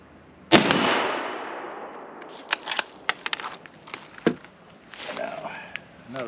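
.223 rifle shot striking a steel plate: a single sharp, loud crack with a long ringing decay, followed by faint scattered clicks and shuffling, with brief talk toward the end.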